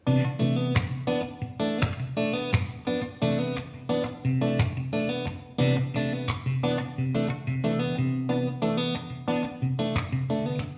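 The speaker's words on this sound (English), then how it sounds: "he has these like dead notes in between" Guitar plays a steady pattern of notes separated by short percussive muted dead-note clicks, rhythmic and close, with no voices.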